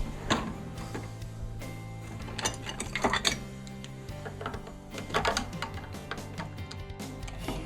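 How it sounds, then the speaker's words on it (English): Strings on a guitar held in a neck vise are unwound at the tuning pegs, producing a continuous close ticking, ratcheting whir with a low metallic hum and scattered brighter clicks and pings throughout. "So let's go ahead and take the strings off."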